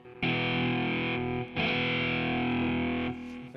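A Casio Privia PX-S3000 run through a Mesa Boogie amp model gives a loud, heavily distorted sustained tone in about three long held chords, played alone.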